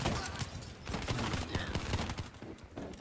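Rapid automatic gunfire from the Dingo weapon in a Call of Duty multiplayer match, a steady dense burst of loud shots running nearly the whole time with brief dips.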